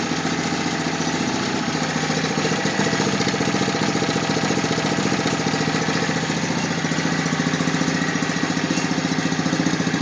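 A Toro 724 snow blower engine runs close up, loud and steady, with an even rapid chugging throb that never changes pace for the whole stretch.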